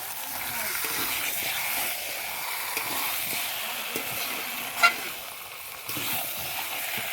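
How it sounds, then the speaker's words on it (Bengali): Chicken frying in a pan with a steady moderate sizzle and light stirring scrapes, one sharp clink of a utensil partway through, close and continuous. "মাংসটা ভালো করে কষে নেব।"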